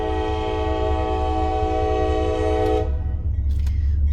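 A train rolls past with its horn blaring loudly and steadily for about three seconds, then the horn cuts off and the low rumble of the rail cars carries on, with no talk.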